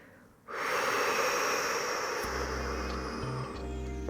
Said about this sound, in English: Exhaling out through the mouth.